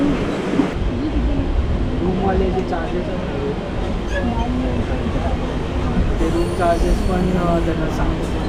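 A MEMU local train running on the Vasai to Panvel line rumbles steadily from inside, with wheel and rail noise throughout and people talking over it.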